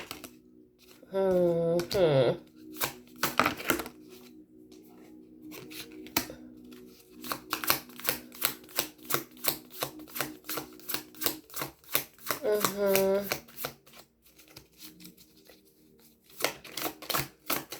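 Tarot cards are riffled and shuffled by hand in a quiet room, giving repeated bursts of crisp flutter and tapping with a few brief pauses between rounds.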